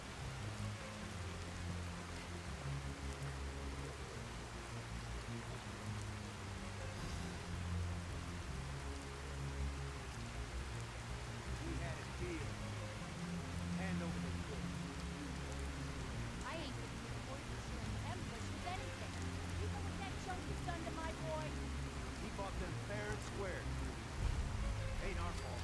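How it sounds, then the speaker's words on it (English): Rain pours steadily in the modded video game Fallout 4, a dense, unbroken patter on surfaces over a low rumbling bed, fairly faint and constant throughout. "enjoy the full experience in dark with rain and no commentary"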